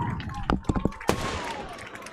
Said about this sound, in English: That is a firework every time the Tigers score.